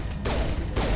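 Pistol fire in the video game Mass Effect comes as a dense, loud burst of rapid shots that drops briefly and then resumes within a second, with no talk.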